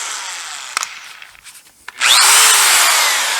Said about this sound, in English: we're going to drill our 3/4 inch holes